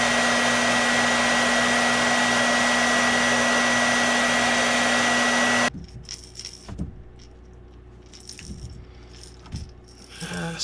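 A heat gun blows a steady loud whoosh while heat-setting paint on a fishing lure, then cuts off abruptly, followed by light rattling and handling clatter.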